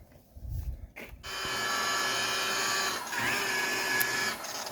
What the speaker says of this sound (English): We are buffing to get a shine into the paint and also to scratch the paint.